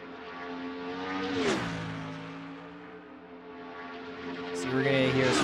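Race cars on an oval in a racing video game roar past in a couple of rising-and-falling engine sweeps, with a steady mid-level motor drone between the passes.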